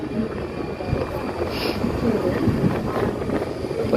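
A Mangaluru-to-Chennai superfast sleeper train pulls out of Payyanur railway station, heard as a continuous low rumble and rolling noise, fairly loud and steady from the start, with no clear talk.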